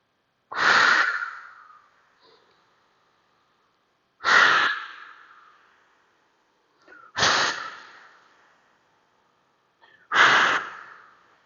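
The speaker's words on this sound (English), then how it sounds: "So inhale and exhale here, back rib, big exhale" Four strong, close breaths during a core workout, each a sharp exhale fading out, repeating roughly every three seconds with near silence between them.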